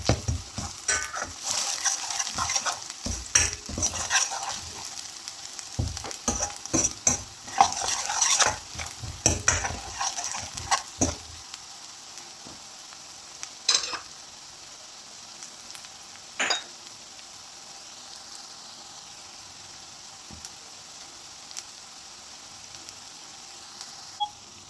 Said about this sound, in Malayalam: എല്ലാം കൂടി ഒന്ന് നമുക്ക് വഴറ്റി കൊടുക്കാം.